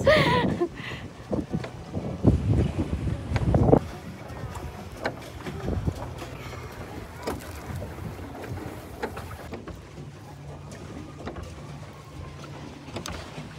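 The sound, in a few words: paddle boat on water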